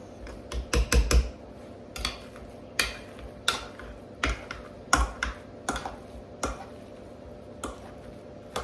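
Spoon mixing butter into a thick mash of potato and turnip, sounding as a steady run of close, sharp knocks and taps against the bowl, roughly one or two per second, with no talking.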